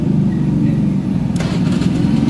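A Honda Beat FI scooter with a battery problem, loud and steady close engine noise from start to finish with a brief sharp transient midway.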